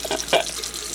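Tap water runs steadily from a faucet while a cat drinks from the stream, giving a close, continuous splashing and trickling with small irregular splatters. No voices are heard.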